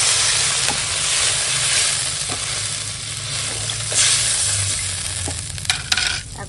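Water tipped into a pan of frying spices and vegetables hisses and sizzles loudly and continuously, with a few soft stirring clinks and scrapes toward the end, no talk.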